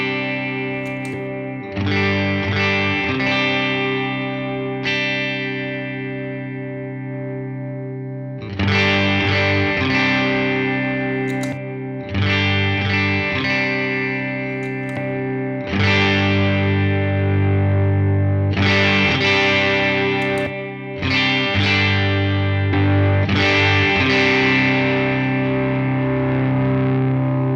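Electric guitar through a clean amp tone with an overdrive pedal in line, strummed chords ringing out in several separate bursts with short gaps between, close and fairly loud, no voices.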